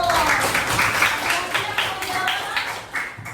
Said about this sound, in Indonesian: terima kasih tepuk tangan buat Hanum